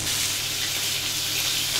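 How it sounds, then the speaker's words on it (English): Steaks hitting a hot pan and frying with a loud, steady, close sizzle that holds evenly throughout, with no voices. "I added the steaks away from me in the pan"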